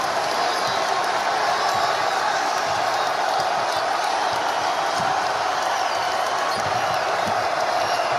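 A home crowd at a college basketball game, St. John's versus Providence, roars with steady, loud cheering that fills the arena, with a commentator talking over the noise.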